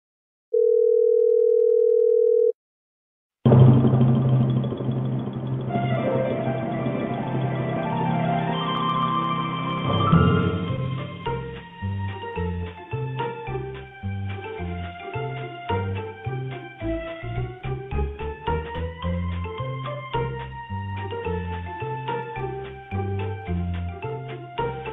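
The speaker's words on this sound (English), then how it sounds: "That's the Tranquility Lane theme" Fallout 4 Tranquility Lane theme music played over a phone line after a short steady tone, a continuous tinny melody with sustained tonal chords running at even volume to the end.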